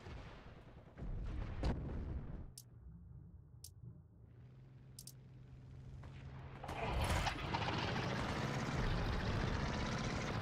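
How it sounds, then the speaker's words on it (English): Gunfire from a Garand rifle and other weapons in the shooter game Heroes & Generals during a night battle at an airfield, with sharp distant cracks over rumbling battle noise and a loud, dense burst of firing near the end. "I hear the Garand going off here."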